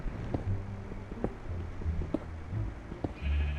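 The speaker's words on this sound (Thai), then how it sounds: "เฮ้ย แถวนี้มีแกะด้วยเหรอ" A Minecraft sheep in a 1.14 survival world bleats a few times in short, low calls, fairly faint under a steady background bed, with no speech.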